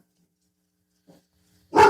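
A dog gives a faint, brief yip and then a single sharp, close bark after near silence.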